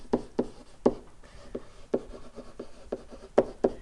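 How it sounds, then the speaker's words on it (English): Marker or chalk strokes on a classroom board, a series of short scratchy taps and scrapes in an irregular rhythm, close and fairly quiet, with no talking. "Let me write that in."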